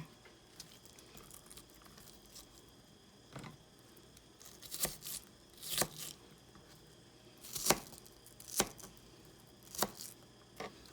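A knife cuts half an onion on a board with sparse, crisp chops, scattered at first and then clustered in quick pairs, fairly near and without speech.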